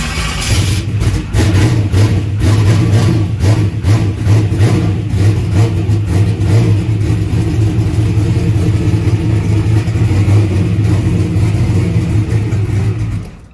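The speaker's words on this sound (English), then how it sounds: "So let's see if it starts. It's probably gonna hit and then it'll cut off and it'll hit and cut off." Drag car engine firing on brake cleaner, starting and revving with a loud, close, rough low rumble and rapid pulsing roar held steady for over ten seconds before cutting off, no talking.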